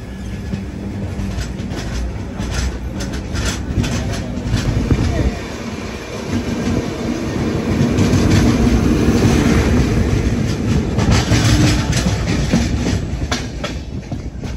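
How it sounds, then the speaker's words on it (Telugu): The Mumbai LTT to Kakinada Port Express runs at speed, heard from on board as a loud, steady rumble with rhythmic clickety-clack of the wheels on rail joints. The din swells midway through. "మన ట్రైన్ అయితే బయలుదేరిపోయింది."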